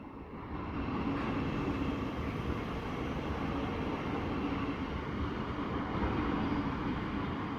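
A train rumbles steadily at King's Cross station, a broad, even mechanical roar holding at moderate level for several seconds without talk.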